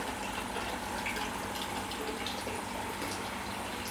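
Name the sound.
12-volt electric water pump running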